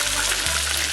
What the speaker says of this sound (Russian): Так, теперь укладываем. Обжариваем слегка